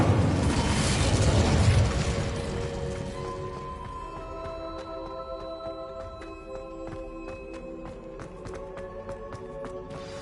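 A fire spell bursts into a loud, broad explosion in the game Hogwarts Legacy, its heavy roar swelling over the first two seconds before fading into a lingering crackling tail threaded with bright tonal magical shimmer.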